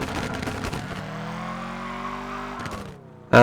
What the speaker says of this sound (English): there's the horrendous brakes in the game again